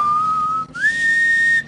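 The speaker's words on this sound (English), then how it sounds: "I'm gonna showcase your whistling" A person whistles a steady sustained tone, then slides up to a higher held note that lasts nearly a second, clear and close with no talking.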